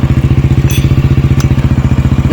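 A Honda XRM/Wave motorcycle engine idles steadily right after a kick start, with a fast, even, close-up putter and a light mechanical clatter.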